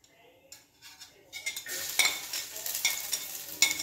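Garlic hits hot oil in a pan for chicken sopas and starts sizzling, with a utensil stirring and clinking against the pan, the frying growing louder and staying close.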